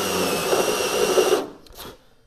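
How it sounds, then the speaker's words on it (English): Power drill boring out spot welds in car body sheet metal during removal of a damaged rear tail panel, a loud continuous whirring grind that stops abruptly, followed by faint clatter and quiet. "make sure that you drill just enough"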